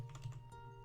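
Computer keyboard typing during a Miner's Haven game session, a short quick burst of light key clicks over a steady low hum, close and moderately faint.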